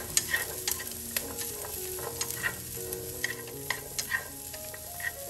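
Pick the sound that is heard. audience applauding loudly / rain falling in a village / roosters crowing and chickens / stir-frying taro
stir-frying taro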